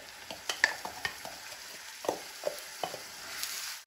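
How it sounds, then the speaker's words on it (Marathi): Onion paste fries in oil over a medium flame, a steady sizzle broken by repeated scraping stirs of the spoon against the pan, close and clear with no voices. "मीडियम फ्लेमवरती आपल्याला हा कांदा छान परतून घ्यायचा आहे."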